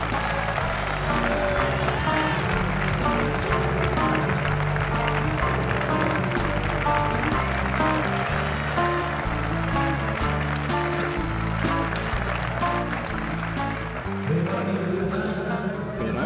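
Applause runs on and on, held steady and loud, but a strong tonal music bed or chant sits beneath it the whole time, with no single clear voice on top.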